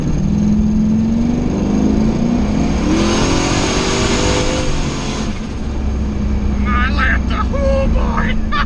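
Chevstang car pulling hard in a second gear roll, the engine droning and rising in pitch as it accelerates, loud and close with wind roar, and people shouting excitedly near the end.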